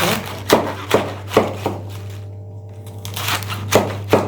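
Sharp, regular knife chops through cabbage on a cutting board, about two per second, close by and briefly pausing midway.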